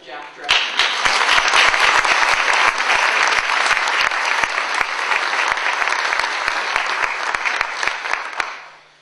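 Sustained audience applause welcoming Dr. Jack Drescher of the American Psychiatric Association, a dense wash of many hands clapping that swells quickly, holds steady for about eight seconds, then tapers off.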